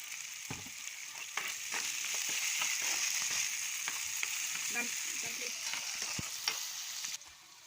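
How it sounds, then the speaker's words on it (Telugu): Onions and green chillies fry in a pan with salt, a continuous close sizzle broken by repeated scraping stirs of a spatula, with no voices. "ఆనియన్స్ పచ్చిమిర్చి అయితే వేసుకొని ఫ్రై చేసుకోవాలి"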